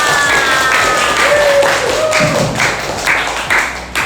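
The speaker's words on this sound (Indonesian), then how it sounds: "Tepuk tangan buat kita semua." Students in a classroom clapping together at the start of a lesson, a loud, busy wash of hands with some voices and a high whistle-like tone over it.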